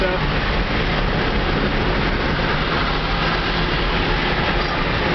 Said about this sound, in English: forcing this motor and batteries and everything to pull 300 amps continuous going up this hill